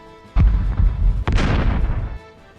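A cannon fires in a tabletop wargame as a loud synthetic sound effect: two heavy booms in quick succession, each with a sharp attack and a rumbling tail that fades out after about a second.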